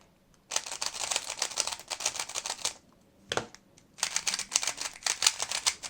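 A Weilong speed cube is turned in quick bursts, with dense, clacky plastic clicks rattling in two runs around a brief pause. The sound is close and fairly crisp.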